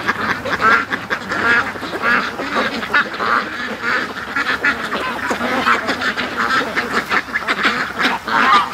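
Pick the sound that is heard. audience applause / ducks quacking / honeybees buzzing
ducks quacking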